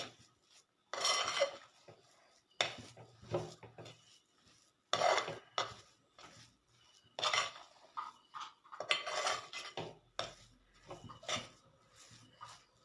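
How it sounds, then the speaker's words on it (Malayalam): Nuts and matta rice ingredients for a traditional rice-ball sweet are stirred together with a utensil in a pan, giving repeated close, quiet bursts of scraping and rattling separated by short pauses. "എല്ലാം കൂടെ നമുക്കൊന്ന് കൂട്ടി മിക്സ് ചെയ്യാം."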